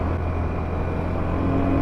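A dual sport motorcycle running fast on gravel woods roads: a steady, loud engine drone with constant wind and road roar, close and unbroken, with no talk.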